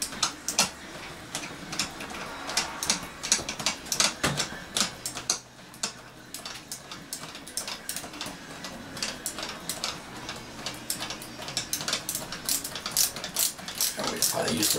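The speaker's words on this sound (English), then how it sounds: "we probably use the ratcheting part there" Ratcheting screwdriver tightening a screw on a ceiling light fixture, a close, rapid series of sharp ratchet clicks in uneven bursts throughout.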